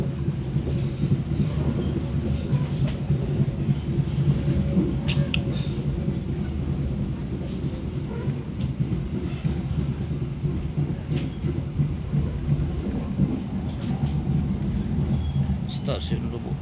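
Pariaman Express passenger train running near Lubuk Alung Station in Indonesia: a steady low rumble of rolling wagons with a faint clickety-clack, continuous and fairly close throughout, with a hint of voices in the background.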